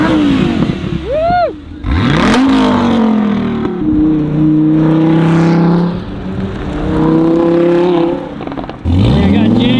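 Dodge Viper ACR race car revving and accelerating away on a track, loud and close, with pitch sweeping up through gears and a voice talking over it.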